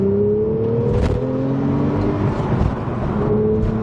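A Porsche 911 GTS Cabrio turbocharged engine accelerates with a steady, loud, close drone and rising whirring tones, a touch of turbo lag in the climb, with no talk over it.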